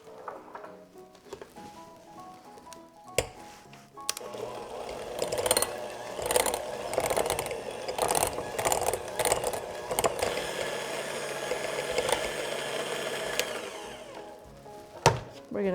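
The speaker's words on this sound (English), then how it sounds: "we're going to mix up our cream cheese. Make it nice and fluffy with the hand mixer." An electric hand mixer whipping cream cheese in a bowl, starting after a few seconds of handling knocks and running as a loud continuous whirring buzz with beaters rattling against the bowl, then stopping near the end.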